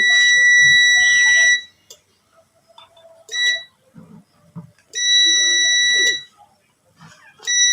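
Shrill electronic beeps from a probe tester checking a Dungs pressure switch, sounding in long steady bursts with gaps, plus a brief chirp, with handling noises in the quiet stretches.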